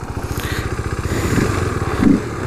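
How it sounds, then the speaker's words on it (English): A modded 2015 KTM RC 390 single-cylinder motorcycle engine idles with a steady, fast thumping pulse, close and fairly loud, its note rising slightly toward the end as it revs a touch. "You can hear that single-cylinder engine."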